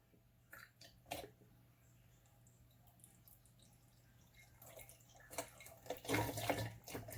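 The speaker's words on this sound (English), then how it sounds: "I'm going to pour a little more in here and then do a small one." Liquor pours into a flexible flask pouch with trickling, splashy liquid sounds that grow louder and denser toward the end, over a low steady hum.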